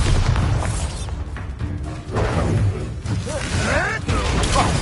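In the video game Hogwarts Legacy, a Bombarda explosion spell lands with loud booming blasts and rumbling crashes amid dense combat effects, with voices shouting over the action.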